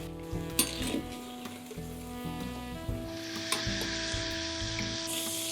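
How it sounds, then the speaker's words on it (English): Yam pieces deep fry in hot oil until golden brown, with a soft continuous sizzle and occasional utensil clinks against the pan, fairly quiet. "before we start cooking this, we need to deep fry this till golden brown"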